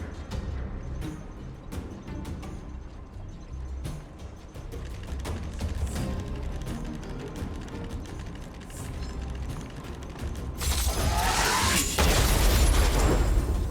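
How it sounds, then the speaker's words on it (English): A stealth bomb explodes in Honkai Star Rail, a loud broadband blast erupting late and swelling into a roaring burst over steady game-world ambience and mechanical clatter. "We wiped them all out in a single explosion!"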